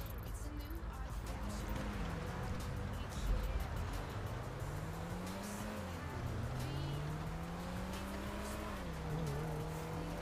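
A stolen car drives on a highway in the GTA video game. Its engine drones continuously at high revs, rising and falling with gear changes and tire noise, and it stays loud and close throughout.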